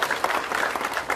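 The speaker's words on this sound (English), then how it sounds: "Can we do that with a clap for ourselves?" An audience at a stakeholder meeting breaks into a short, dense burst of applause, many hands clapping together at close range.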